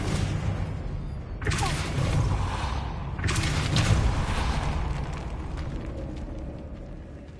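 The Confringo blasting spell in Hogwarts Legacy detonates in two deep, rumbling blasts about two seconds apart, each with a heavy boom that lingers and slowly fades, alone without talk.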